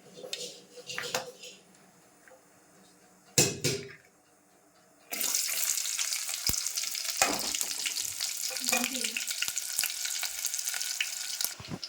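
Chopped onions dropped into hot oil in a home kitchen pan, first quiet clinks and utensil knocks, then a sudden loud, dense sizzle that holds steady with scattered scraping and stirring.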